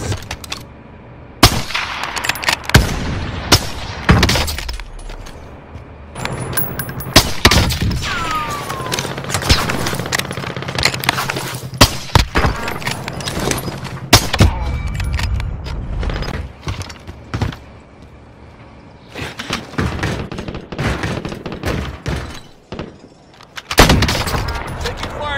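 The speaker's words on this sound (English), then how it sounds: "Taking fire here." A Call of Duty Warzone firefight is full of repeated loud gunshots, rapid automatic bursts and heavier booms scattered across a long stretch, with short pauses between volleys and players talking now and then.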